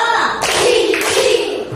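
A class of children claps hands together in a counting clap game, a dense burst of overlapping claps filling the room, with a rise midway.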